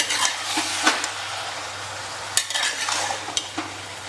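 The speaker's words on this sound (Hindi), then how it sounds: "इसको हम थोड़ा सा चला चला के लाइट ब्राउन कर लेंगे।" Mutton with chillies being stirred in a pan, soft intermittent scrapes and light clinks of the spoon against the metal over a low steady sizzle, close and fairly quiet.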